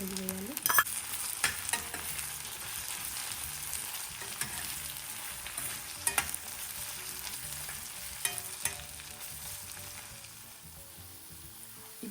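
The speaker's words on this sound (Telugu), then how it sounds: "జీడిపప్పు గోల్డెన్ బ్రౌన్ వచ్చినాక కట్ చేసి పెట్టుకున్న ఆనియన్ తరిగి వేయాలి" Chopped onions hit hot oil with golden-fried cashews, bay leaf and shahi jeera for Telangana bagara rice, giving a loud, steady sizzle broken by occasional scraping stir clicks; no one speaks.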